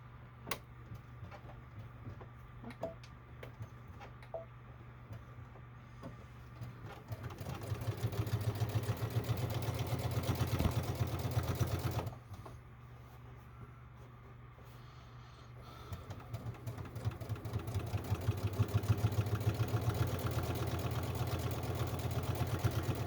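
A sewing machine top-stitches a bag at a 3.5 stitch length, its motor humming in two sustained runs of several seconds each, separated by quieter pauses with faint handling noises.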